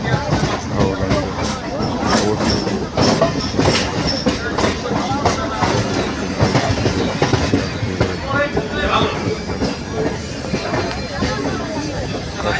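A crowded local train leaving Howrah station on a winter morning rumbles and clatters steadily, wheels clicking rhythmically under a dense babble of passengers talking throughout.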